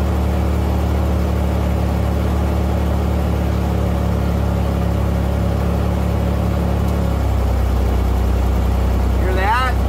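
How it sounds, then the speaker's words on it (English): Car HVAC blower fan motor on a Pontiac Fiero with the AC compressor jumped: a loud steady whirring drone alongside the engine hum, dropping in pitch near the end with a faint click, and no talking over it. "I'm gonna jump it so you can hear the speed change of the motor."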